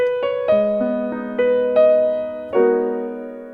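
Solo piano plays a short jazz ending to a song: a handful of struck chords and single notes stepping downward, the last chord left ringing and fading out.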